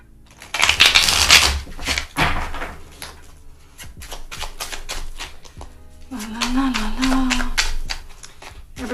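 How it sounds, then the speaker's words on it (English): Tarot cards are shuffled close by in repeated riffling bursts and soft slaps that come and go over several seconds, with a voice briefly heard toward the end. "So I'm gonna go ahead and shuffle some cards."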